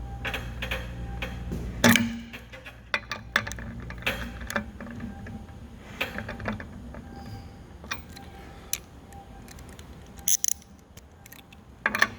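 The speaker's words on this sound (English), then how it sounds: "It's no longer moving, so go ahead and use the socket." A socket wrench ratchets on a spin bike crank arm bolt, a quiet series of irregular mechanical ticks and clicks with a louder clunk near the start and a few sharp clacks later.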